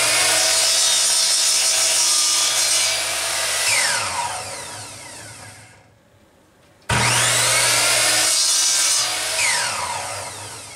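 A power saw whines loudly through wood in two long cuts, the motor spinning down and briefly going quiet between them.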